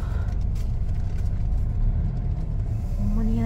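A car pulling into a parking lot in Fukuyama, a steady low engine rumble with road noise up close, continuous throughout and without talk.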